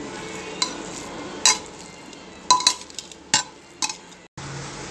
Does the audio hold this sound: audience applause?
no